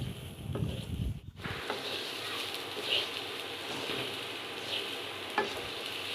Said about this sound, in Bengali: পোলাওয়ের চালগুলো ভাজতে ভাজতে যখন ঝরঝরা হয়ে আসবে তখন চালটা ভাজা হয়ে যাবে।